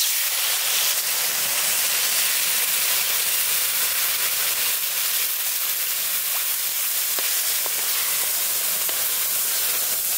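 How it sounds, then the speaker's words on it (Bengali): Water hitting a hot pan of taro cooked with prawn paste, village style, giving a loud, continuous steamy hiss that fills the whole stretch, with no voices. "এখন দিয়ে দেবো পরিমাণ মতো একটু জল।"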